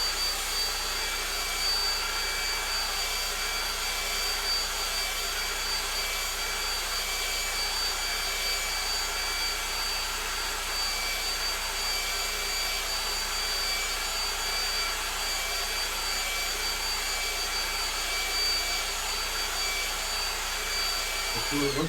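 A dryer roars steadily while force-drying acrylic paint on a woodturning, a loud, unbroken broadband rush of blowing air that holds level for the whole stretch with no pauses.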